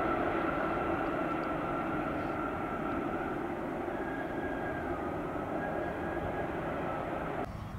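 A Boeing 747 jet airliner passes near an airport, its engines a loud, steady roar holding evenly throughout with a slight change in tone near the end.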